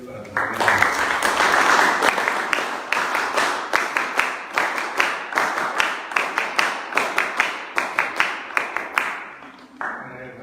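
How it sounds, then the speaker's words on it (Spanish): A room full of people applauds steadily, the clapping holding for several seconds before thinning out and fading. "Yo pido un aplauso para Javier."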